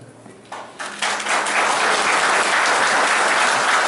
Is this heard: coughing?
no